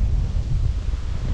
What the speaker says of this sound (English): just look at the sand, the wind blowing